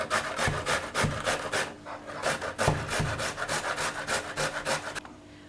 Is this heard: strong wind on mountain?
no